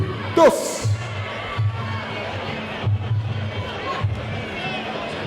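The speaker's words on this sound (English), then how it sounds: "So they're cheering loud for Anna right now." Crowd at a Muay Thai fight cheering for a fighter, an opening whoop followed by a loud general roar of voices, with low booming thuds recurring in a rough rhythm beneath the crowd noise.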